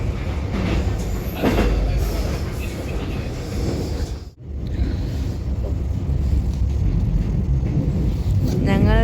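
A train in Australia rumbles steadily at close range, with a continuous low roar and brief mechanical clatter that dips for a moment in the middle. Speech is faint beneath the noise.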